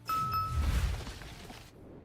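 A short, bright notification bell dings once at the start, then fades into a soft, noisy tail lasting under two seconds.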